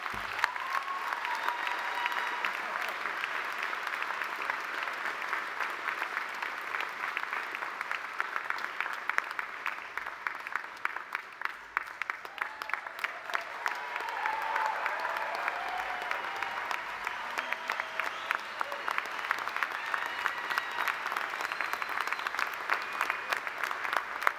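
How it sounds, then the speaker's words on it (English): Sustained clapping from a large crowd at a university commencement ceremony, dense and steady throughout, with occasional cheers rising over it. "Give yourselves a round of applause."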